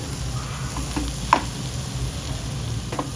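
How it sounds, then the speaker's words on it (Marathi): Khoa is roasted in a pan over a low gas flame and stirred continuously: a soft, steady sizzle runs throughout, broken by a few brief scrapes of the spoon against the pan. "स्लो गॅसवरती आपण आपला खवा आता नीट परतून घेऊ."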